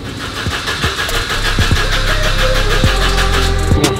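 A Japanese-import Evo 2 rally car, a quarter-million-dollar machine, cranks repeatedly without catching. The starter whirs loudly and steadily, punctuated by a few rhythmic knocks, and no speech is heard.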